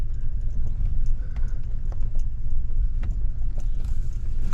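A new truck jolts and rattles over very rough, bumpy terrain in an Arizona national forest, with a steady deep engine rumble and repeated knocks and thumps of the cab and suspension throughout.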